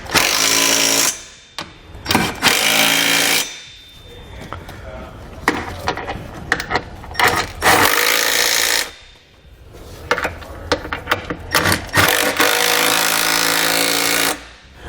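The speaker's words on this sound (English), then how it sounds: "you want to come back and tighten it all up with a 17mm socket." A power tool running a 17mm socket to tighten Curt trailer hitch receiver hardware on a 2019 Hyundai Tucson, loud bursts of rattling impact broken by short pauses and clanks, close by.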